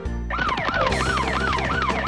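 A cartoon police car siren wails in a steady rising-and-falling cycle, about five loud sweeping tones in quick succession over a low engine-like rumble.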